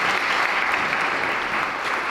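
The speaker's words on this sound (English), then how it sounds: "one more round of applause for our amazing speakers" An audience at a community event gives the speakers a steady round of applause, dense and even throughout, with no voices standing out above the clapping.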